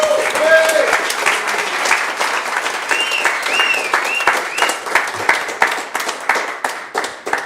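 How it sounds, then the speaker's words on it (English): A conference audience at OpenSIPS Summit 2022 in Athens applauds steadily, a dense patter of many hands clapping throughout, with some voices and whoops mixed in. "round of applause for Vlad"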